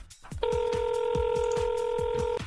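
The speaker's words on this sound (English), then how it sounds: "Let's get my Auntie Pat on the phone right now" Ringback tone of an outgoing telephone call, a steady electronic two-tone hum heard close and continuous after a brief click, with a faint repeating pulse running underneath and no talking.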